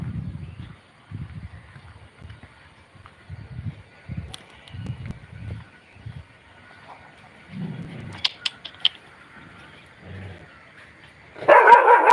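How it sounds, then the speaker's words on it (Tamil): A household dog barks repeatedly outside a house, a series of low, rhythmic woofs at middle distance, followed by a brief high clatter and a loud rushing noise at the end. "அவங்க வீட்டு நாய் குலைக்குது பாருங்க"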